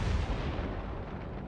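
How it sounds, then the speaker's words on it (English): A ship's secondary guns fire in World of Warships, a loud, dense wall of booming gunfire that rumbles continuously through the short stretch without a break, with no voices. "let's get the secondary guns on him"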